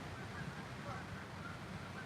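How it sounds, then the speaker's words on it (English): A flock of geese honking in scattered calls over a steady outdoor background, fairly faint and distant. "all these geese are amazing"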